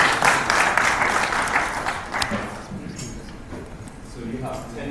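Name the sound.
audience applause at a conference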